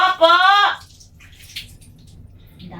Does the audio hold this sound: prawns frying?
no